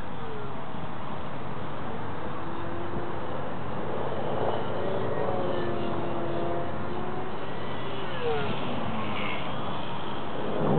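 A small scratch-built pink RC plane flying outdoors, its electric motor giving a faint steady whine that shifts in pitch as it passes, heard at a distance over wind noise.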